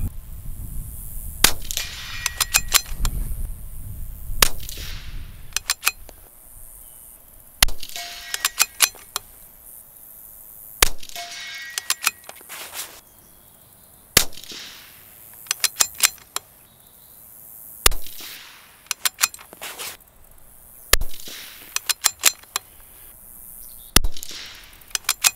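A .22LR rifle fitted with an EC tuner fires a string of sharp, close shots at roughly two-second intervals, each followed by faint metallic clicks of the bolt and spent brass.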